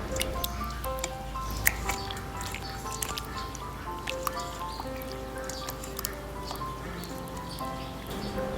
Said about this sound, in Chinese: 然后我们给它搅拌按摩一下大概按5分钟左右吧